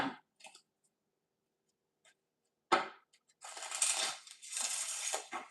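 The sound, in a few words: shuffling tarot cards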